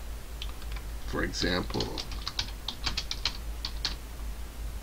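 A value is typed on a computer keyboard as a quick run of light, uneven key clicks. Someone speaks briefly near the start.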